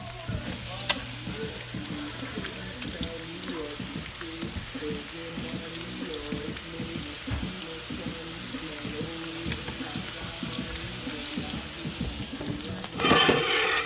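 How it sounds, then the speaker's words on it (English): Food sizzles steadily in melted butter in a frying pan, a continuous moderate crackle with a louder burst near the end and no talk. "we're just going to pan fry that"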